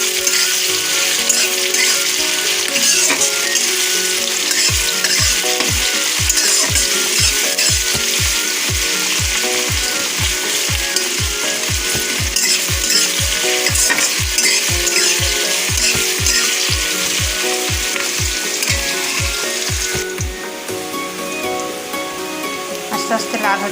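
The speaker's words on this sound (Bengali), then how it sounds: "পেঁয়াজটা আমি লাল করে ভেজে নেব।" Onions frying in a pan until browned before meat is added, a steady broadband sizzle and crackle running throughout with a regular low tapping underneath, easing slightly near the end.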